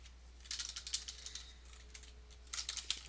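Quiet computer-keyboard typing comes in two short bursts of rapid clicking keystrokes, separated by a brief pause, close up and alone.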